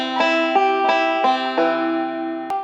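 Banjo picking a roll measure of Roll In My Sweet Baby's Arms, five or six bright plucked notes in an even rolling rhythm, close and clear with ringing sustain and a sharp final pluck.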